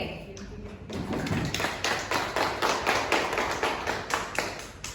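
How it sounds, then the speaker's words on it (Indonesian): A classroom group claps for a student named Sabri during a microteaching lesson: a few scattered claps first, then a steady, dense round of applause that carries on evenly to the end. "tepuk tangan dulu untuk Sabri"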